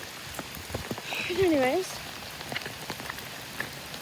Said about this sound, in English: as you can see, it's non-stop raining.